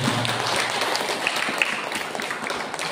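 A church congregation claps loudly and continuously in a dense wash of applause that carries steadily through the whole moment.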